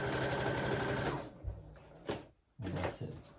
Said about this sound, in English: you can do a stitch again here